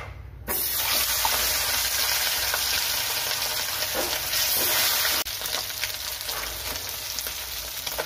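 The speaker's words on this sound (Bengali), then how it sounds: "মাছটা আমার ভাজা হয়ে গেল।" Bata fish frying in a pan crackles with a loud, dense, continuous sizzle and scattered pops, close by, dropping slightly in level partway through; no one speaks.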